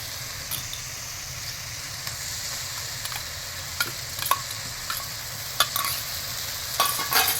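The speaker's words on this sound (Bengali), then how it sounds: "আদা বাটাটা দিয়ে এবার এইভাবে মশলাটা নাড়বো" Fried masala with peas and ginger paste stirred in a pan, a steady hiss of sizzling underneath with scattered scraping taps of the spoon, growing a little busier toward the end.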